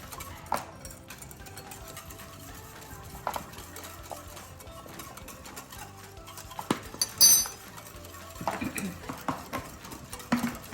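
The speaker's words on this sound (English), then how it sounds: "I'm going to add a little bit of curry powder, if you want to whisk that in" Curry powder being whisked into a sauce for cauliflower chicken curry, soft scattered whisk clinks and taps against a pan, with a busier burst of clatter near the end.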